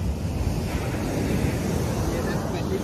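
Ocean surf roars steadily against a stormy shoreline, its waves mixing with heavy wind buffeting the microphone in a loud, unbroken wash with no distinct breaks.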